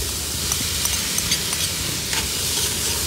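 Onion and tomato frying in oil for a refrito base at high altitude, a steady close sizzle with occasional stirring scrapes and crackles throughout, no voices.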